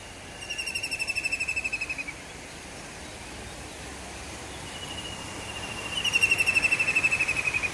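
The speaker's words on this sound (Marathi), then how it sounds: "काय पक्षी ओरडतो म्हणा" A bird calls outdoors in two rapid trilled bursts, one near the start and a louder one near the end, over quiet background noise.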